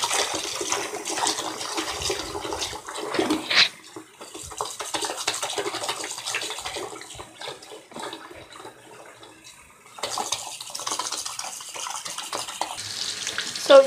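Water runs from a tap as soapy hands are washed, a hissing splash that comes and goes in bursts, fading briefly before surging back near the end.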